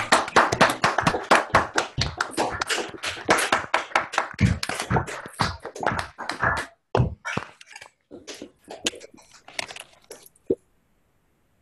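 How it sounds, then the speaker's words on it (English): Scattered hand claps from a small online audience at the end of a talk on cubical type theory, arriving as distinct sharp hits that thin out and stop near the end. "I'll unmute everyone so we can all applaud"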